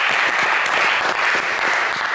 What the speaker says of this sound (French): des applaudissements pour Arnaud